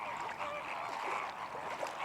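A flock of flamingos at Point Calimere on the coast gives a steady, distant chorus of honking, goose-like calls that blend into a continuous murmur.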